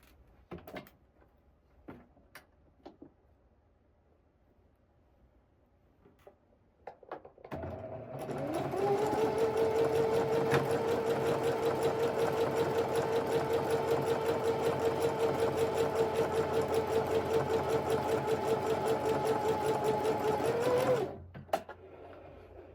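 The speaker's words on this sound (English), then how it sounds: "as we sew down this line, you're just gonna let your sewing machine go right off the edge." Sewing machine stitching a seam through fabric and running off the edge, starting after several quiet seconds of small clicks and handling, then a steady close motor whir and rapid needle chatter for about thirteen seconds before it stops.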